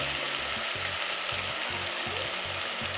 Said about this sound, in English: I cover the pot and let them simmer.